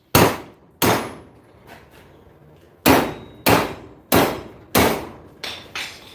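Hard metallic clangs from a hammer hitting metal held in a vise, about eight sharp blows in irregular groups, each ringing briefly before fading, close and loud.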